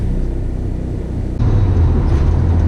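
Steady road traffic rumble around a Mitsubishi Galant VR-4 fitted with a competition twin-disk clutch, a constant low drone that grows louder and heavier about halfway through, with no talking.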